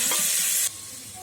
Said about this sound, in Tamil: ரெண்டு தக்காளி சேர்த்து ஃப்ரை பண்ணிக்கோங்க